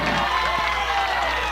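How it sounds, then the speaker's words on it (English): A baseball crowd at a Barren County game reacts to a ball called foul by the home plate umpire, with a dense, continuous wash of cheering and clapping heard from the stands. "Barren County crowd thinks it's a fair ball, but it was called foul by the home plate umpire here"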